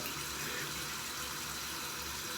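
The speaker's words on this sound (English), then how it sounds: "we're just gonna go ahead and turn the hot water on, get some hot water splashed on my face" Hot water runs from a bathroom tap into a sink before a shave, a steady close hiss and splash that continues unbroken throughout.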